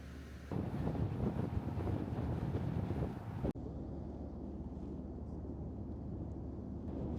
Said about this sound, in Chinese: 我们现在已经在船的甲板上了